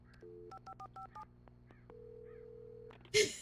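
A series of short two-tone dialing beeps from a telephone in a video game, in quick rhythmic bursts, then a long steady tone, ending with a brief louder burst of noise.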